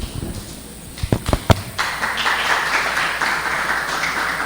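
A church congregation at a Sunday school class breaks into applause, a few separate claps at first swelling into steady, moderately loud clapping from a room full of people.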